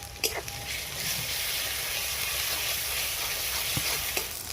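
Spices with garlic paste, ginger paste and green chillies fry among onions in a pan for goat curry, giving a steady close sizzle with a few clicks and scrapes from stirring.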